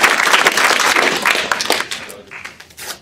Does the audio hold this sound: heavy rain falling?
no